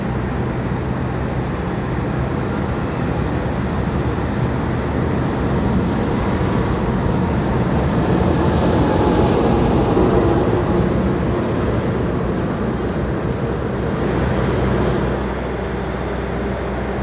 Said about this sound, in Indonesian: di jalur 3 dari arah utara ini akan melintas langsiran lokomotif Dinas